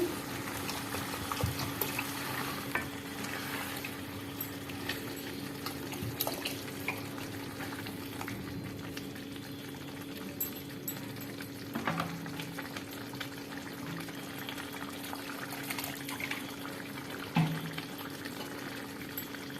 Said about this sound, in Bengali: মশলাটা কষানো হয়ে গেছে, তেল ছেড়ে দিয়েছে, এবার পরিমাণ মতো জল দিচ্ছি